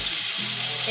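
Cumin paste sautéing in a pan, a brief steady hiss of frying with a low hum underneath, alone.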